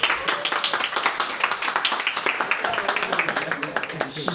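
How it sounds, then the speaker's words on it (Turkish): A small group at a student meetup claps for Bike in quick, sharp, fairly rhythmic hand claps, close by, with voices chattering underneath. "Bir alkış alalım bike'a."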